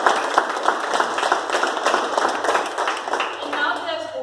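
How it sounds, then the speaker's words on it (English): Audience applause at an installation ceremony, steady scattered clapping across the room with a voice talking over it throughout. "the guests deserve a big round of applause as well"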